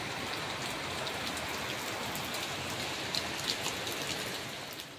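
Steady rain falls on a home, an even, close hiss of drops on surfaces that holds without a break for the whole stretch, with no voices.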